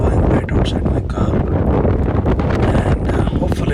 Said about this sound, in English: That is a sound of 15 miles per hour wind blowing right outside my car.